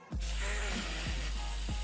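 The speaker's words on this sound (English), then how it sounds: "don't you waste all my bloody bug spray" Bug spray hisses from an aerosol can in one steady, close burst lasting nearly two seconds, with a few faint clicks underneath.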